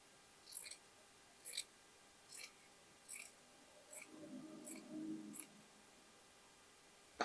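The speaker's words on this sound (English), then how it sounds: "I will cut the hem here, it's longer." Scissors snipping through the fabric hem of a plus-size summer dress, about seven crisp, evenly spaced cuts close by in a quiet room, with a soft rustle of cloth midway.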